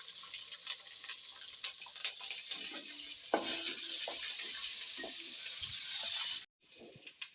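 Onion pieces sizzle steadily in a pan with shahi jeera and green chillies for bagara rice, a bright continuous hiss with small crackles and stirring clinks that cuts off abruptly near the end.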